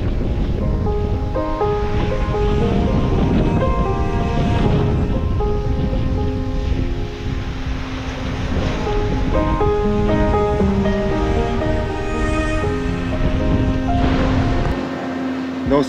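Continuous surf washing onto the shore of the Île d'Oléron mixed with steady wind noise, loud and close, with no talking.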